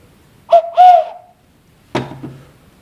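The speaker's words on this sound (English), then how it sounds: "I have an owl whistle." Owl whistle blown in two short, close hooting notes, followed after a pause by a buzzier third call in a quiet room.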